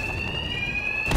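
A steady electronic alarm tone rings continuously inside a Batman video game, loud and unbroken, with a burst of louder noise at the very end.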